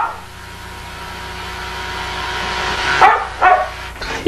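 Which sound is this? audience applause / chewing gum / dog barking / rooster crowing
dog barking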